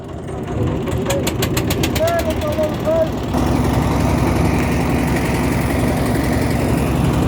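A boat engine running, starting with a rattling idle under a passing voice, then settling into a loud, steady drone close by.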